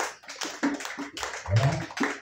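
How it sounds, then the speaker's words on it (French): Church congregation clapping and applauding during a French-language Sunday worship service, a dense burst of claps with a few louder swells, fairly close, over about two seconds. "Acclamez Jésus pour le frère."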